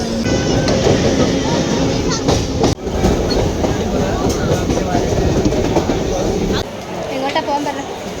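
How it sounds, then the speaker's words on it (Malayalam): A Mumbai suburban train heads toward Wadala, making a loud, continuous rumble and clatter of wheels on rails heard from on board, with one sharp knock partway through and the noise easing slightly near the end. "നമ്മൾ ട്രെയിൻ കയറാൻ വേണ്ടി പോവുകയാണ്"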